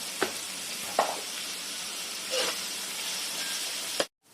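Onions frying in a pan with mint and green chillies for chicken curry, giving a steady sizzle throughout with a few louder stir scrapes near the start, close and alone.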